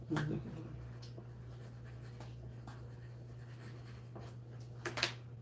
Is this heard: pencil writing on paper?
yes